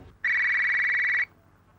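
A mobile phone ringing once with a single loud, steady electronic tone lasting about one second, alone and close.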